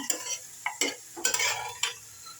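Chopped carrot, beans, spring onion and sweet corn being tossed with spices in a bowl, giving a few short, close, wet rustling and scraping strokes in an uneven rhythm with no talking.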